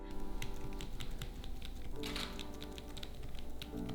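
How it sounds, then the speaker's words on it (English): Keys on a Braille typing device with six dot keys and a central space bar are tapped in quick, uneven bursts of light clicks over a steady background hum. "These buttons at the top actually type the Braille."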